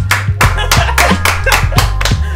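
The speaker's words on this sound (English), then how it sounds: "Why don't we just do the slow clap again?" Steady, evenly spaced hand claps, about three per second, loud and close over a low hum.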